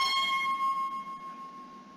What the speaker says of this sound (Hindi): मोबाइल की ध्वनियां